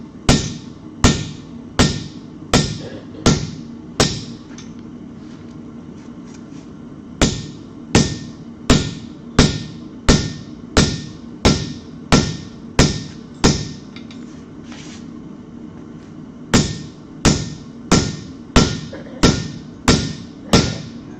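A blacksmith strikes a steel blade on an anvil with a hammer, working a fuller in overlapping blows. The sharp, ringing metallic hits come in quick rhythmic runs of five or six, with short pauses between the runs, loud and close.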